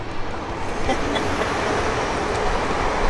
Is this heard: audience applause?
no